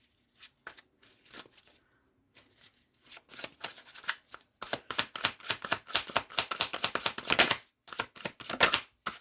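Tarot cards riffled and shuffled by hand at close range, starting with a few scattered flicks and building into a dense, rapid run of crisp card snaps before stopping abruptly, with no voices.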